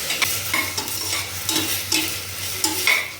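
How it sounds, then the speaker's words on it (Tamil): Ivy gourd pieces tossed into a pan of half-softened tomatoes and onions, stirred with a spatula in repeated scraping strokes over a steady low frying sizzle, close and alone. "தக்காளி நல்லா பாதி வதங்கிட்டு அப்புறம் கோவக்காய் போட்டுக்கலாம்."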